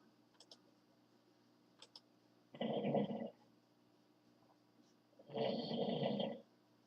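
A person snoring nearby, two long rasping breaths spaced a few seconds apart, fairly loud against a quiet room with faint ticking clicks.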